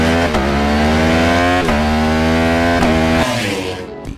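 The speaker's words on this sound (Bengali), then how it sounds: "ডুকাটি V4R-এর সাউন্ড বিশ্বের সবচেয়ে আক্রমণাত্মক বাইক সাউন্ডগুলোর মধ্যে একটি" A Ducati V4R motorcycle engine roars loudly at high revs, the pitch climbing steadily and dropping sharply at each of several gear shifts before the sound fades away.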